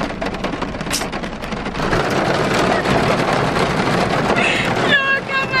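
Heavy rain pours down in a steady, dense roar throughout, loud and close, with a few brief sharper spatters over the downpour.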